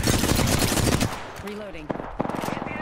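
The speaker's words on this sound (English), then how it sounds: "Open fire on the enemy." Rapid automatic gunfire rattles in Apex Legends, a loud sustained burst that stops abruptly, followed by a brief voiced tone and a few scattered single shots and clicks.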